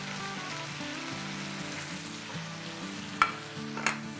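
Ground spices, salt and chili powder sizzle steadily in a pan for a potato chicken curry, with a continuous frying hiss, low scraping of stirring underneath, and two sharp spoon clinks near the end.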